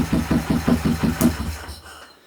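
A motorcycle engine cranks on the starter, giving about seven rhythmic low chugs, then stops and leaves a fading tail. It is loud and close, with no voices.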